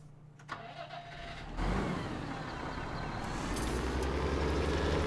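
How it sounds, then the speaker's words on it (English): A tractor engine cranks over and catches in Farming Simulator 17, then settles into a loud, steady mid-pitched idle that runs on alone. "Let's take a tractor."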